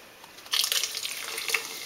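Fanta soda splashes and fizzes as it pours into a glass, a bright bubbly rush starting abruptly partway in and continuing close and moderately loud.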